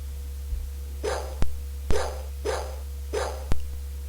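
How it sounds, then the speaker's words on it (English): Dogs bark in the Macintosh game Uninvited, a series of about five short, clipped, low-fidelity barks spaced evenly over a steady electronic hum. "Dogs."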